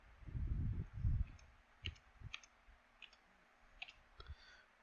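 A few faint, sharp mouse clicks sound in a quiet room, spaced irregularly after a low muffled rustle at the start, with no talking.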